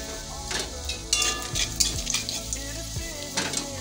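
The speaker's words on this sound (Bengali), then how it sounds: "দিব তেজপাতা আর একটু দিব জিরে, দিয়ে একটু নেড়ে চেড়ে নেব" Cardamom, bay leaf, cumin and asafoetida frying in hot oil crackle and sizzle up close while a spoon stirs and scrapes the pan, with a few sharp clinks and no speech.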